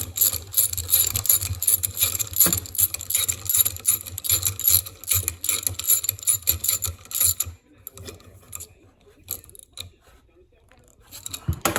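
Bolts tightened with a ratchet on a Lykins Motorsports Ford FE non-adjustable roller rocker arm assembly, rapid repeated ratcheting clicks close up for several seconds, then quieter scattered taps and handling noises.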